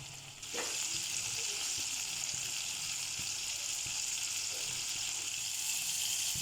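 Chicken pieces frying in hot cooking oil, a steady dense sizzle that surges as the pieces go in and then holds at an even, close crackle, with faint pan clinks and no talk.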